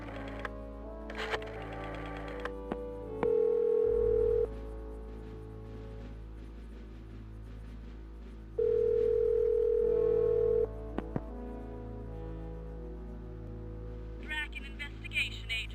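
A telephone is dialed in the 1995 game Reelect JFK: a steady dial tone, a quick series of key presses, then two longer pulsing call tones, with faint keyboard-like clicks throughout.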